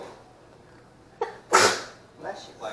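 A single loud, close sneeze bursts out in a home kitchen during mac and cheese cooking, with a softer sound just before it and quieter voices following.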